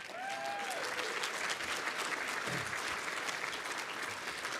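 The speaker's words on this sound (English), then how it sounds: "So how about a nice round of applause for our defense?" A dinner audience at a 1975 Northern Michigan University football celebration applauds the team's defense, giving sustained, dense clapping with crowd noise from start to finish.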